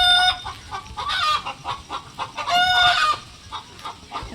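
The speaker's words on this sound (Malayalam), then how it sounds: "ഇന്ന് നമ്മുടെ പുള്ളിക്കോഴികൾ പുതിയ കൂട്ടിലേക്ക് താമസം മാറുകയാണേ" Spotted native chickens clucking on a home poultry farm: several birds give loud, close, repeated clucks and drawn-out cackles in overlapping bursts, with no talk.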